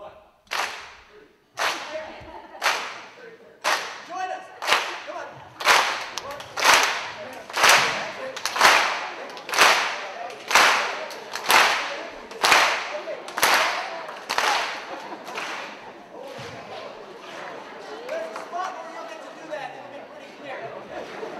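A choir claps hands together in a steady rhythm, about sixteen sharp, evenly spaced claps that swell and then fade into softer, looser clapping and murmured chatter at the end.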